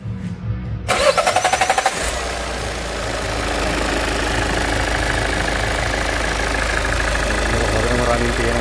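Diesel engine cranks with a rapid starter whir, catches, and settles into a steady, loud, rattling idle that runs on, with someone talking over the start.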